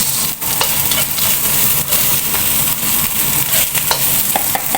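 Carrots going into a pan already holding garlic and onion for a simple vegetable lumpia filling, with loud steady sizzling and frying alongside stirring scrapes throughout, close and without talk.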